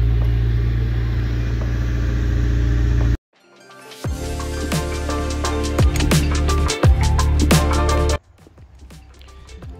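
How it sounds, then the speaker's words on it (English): An A86 car's engine rumbles steadily and close for a few seconds before a hard cut to a clattering, mechanical scene with intermittent knocks and clicks. "Here's Sam in his A86, going out for a drive with his daughter"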